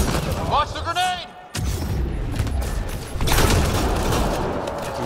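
A grenade blast in the sci-fi shooter Mass Effect Andromeda comes as a heavy boom amid ongoing combat noise and gunfire, with voices shouting over the battle.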